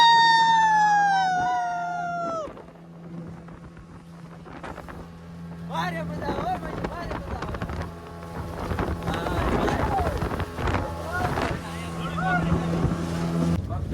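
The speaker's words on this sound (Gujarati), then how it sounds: "તો લેટ્સ ગો જઈએ પાણી સમુદ્રની અંદર ઓલી બોટની અંદર." A motorboat cruises out on the open sea at Shivrajpur beach near Dwarka, its engine droning steadily with wind buffeting the microphone, while people talk and call out excitedly over the noise.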